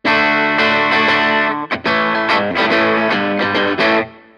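Loud, distorted chords on a Sterling Cutlass CT30 electric guitar are strummed in choppy bursts, with a brief pause partway through before the strumming resumes.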